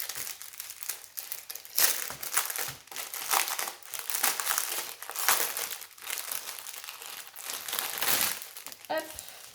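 Crinkly plastic bags holding diamond painting drills are pulled and torn open up close, with repeated crackling and rustling bursts while someone speaks over them.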